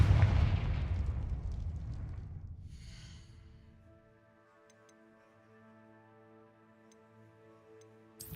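A Confringo fire spell blasts in the Hogwarts Legacy video game with a loud, booming burst that rumbles and fades over several seconds, leaving a quiet sustained musical tone behind.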